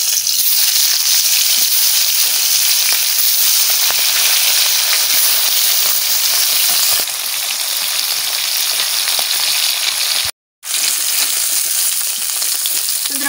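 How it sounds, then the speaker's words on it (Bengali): Prawn fish fry in hot oil in a pan, a loud, continuous close sizzle and hiss that holds steady for over ten seconds, with a brief cut to silence near the end before the frying resumes. "মাছ ভাজা দিয়ে দিলাম"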